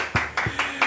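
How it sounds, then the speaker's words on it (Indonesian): A few claps from a small audience at a podcast gathering, four soft hits spaced about a quarter second apart, close and fairly quiet. "Tepuk tangan sekali lagi."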